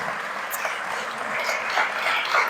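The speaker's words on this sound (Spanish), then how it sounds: "Un aplauso para Margarita, por favor." An audience applauds Margarita at a lecture, with a steady patter of many hands clapping that swells slightly toward the end, heard from within the room.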